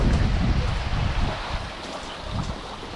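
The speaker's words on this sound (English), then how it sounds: "And it's still pouring." Heavy rain pours in a dense, continuous roar under a bridge during a violent storm, with low rumbling wash and gusty wind noise buffeting the microphone throughout.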